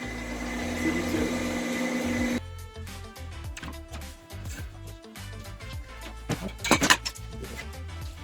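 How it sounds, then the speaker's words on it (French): Workshop vacuum extractor running while building a metal staircase, a steady whine for about two seconds before cutting off, followed by clinks and knocks of workshop activity. "l'aspirateur il est en route"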